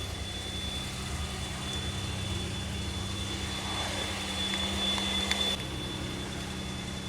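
Rough-running Pontiac Aztek engine at a junkyard, a steady droning idle with a low hum and a faint high whine, holding evenly for several seconds before the tone shifts slightly.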